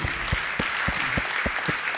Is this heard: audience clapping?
yes